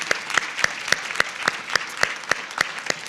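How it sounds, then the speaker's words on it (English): Applause for presenters at a mobile dental best-practices meeting in Iowa, heard as a near, regular series of distinct sharp claps in a steady rhythm. "give them another round of applause"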